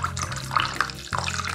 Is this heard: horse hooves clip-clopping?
no